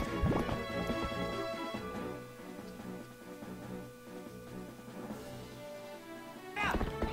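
Horse hooves clip-clop in a horse sports video game, with rhythmic hoofbeats over game music, a brief whinny-like burst at the start and again near the end, moderate level throughout.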